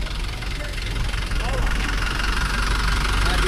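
A car idles and rolls slowly through floodwater on a flooded street in Pulo Puter. The engine gives a steady, close, low rumble with a rough, knocking vibration, and someone talks over it.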